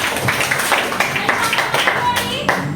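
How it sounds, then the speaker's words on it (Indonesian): A classroom of students claps for a classmate during a school teaching practice session, a quick burst of several uneven hand claps with voices murmuring underneath. "Berikan tepuk tangan untuk Gloriana."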